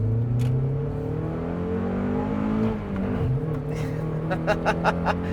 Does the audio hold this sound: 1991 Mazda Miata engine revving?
yes